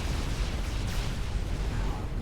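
Dense, continuous rumbling explosions and artillery-like blasts from a Supreme Commander battle with gunships, loud and layered with no gaps.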